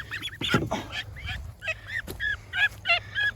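Ducks quack and chatter in their new pen, a cluster of close, overlapping calls with a low background hum.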